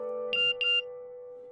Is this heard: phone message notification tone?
yes